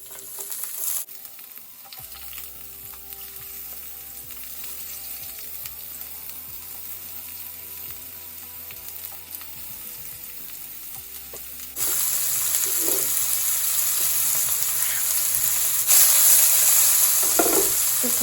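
Sliced capsicum, tomato and onion stir-fry in a pan for chicken bharta, giving a steady close sizzle that grows noticeably louder partway through, with occasional soft stirring scrapes and no voices.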